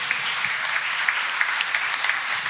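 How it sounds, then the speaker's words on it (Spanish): Church congregation applauding during a service, a steady wash of many hands clapping at moderate volume with a few sharper claps popping out, and no talk over it. "Dale un aplauso al Señor"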